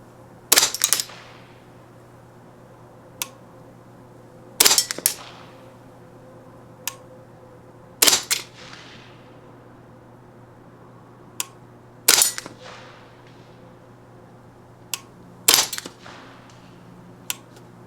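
Five sharp rifle shots from a Ruger 10/22 firing .22 match ammunition at a precision target, spaced a few seconds apart, each with a brief crack and short tail, with softer clicks between them over a low steady hum.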